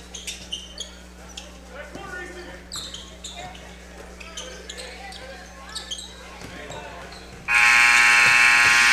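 At a junior high boys' basketball game, sneakers squeak and the ball bounces amid crowd noise before a loud, sustained buzzer blares at the end of the third quarter.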